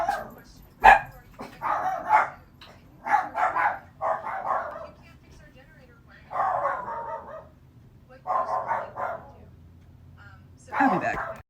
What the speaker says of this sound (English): the dogs are going crazy. I don't know what she's barking at